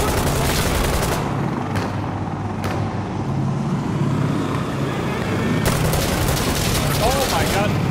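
Gunfire in the video game Insurgency Sandstorm comes as dense, continuous bursts and distant booms across the whole clip, with a few sharper shot clusters standing out, while players talk over the shooting.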